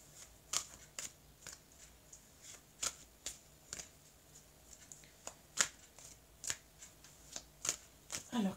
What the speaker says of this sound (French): Je vais couper le jeu. Je vais étaler les cartes.